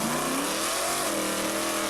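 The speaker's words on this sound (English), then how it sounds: "They hit the front brakes and just light it up. Here comes a funny car." A funny car doing a burnout at a drag strip, played back as a recording: a loud, continuous roaring engine with rising and falling revving tones that holds steady for the whole stretch.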